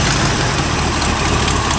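A 1974 Corvette C3 with a swapped engine and no hood idles close by, a steady low rumble with an even, smooth beat and no voices.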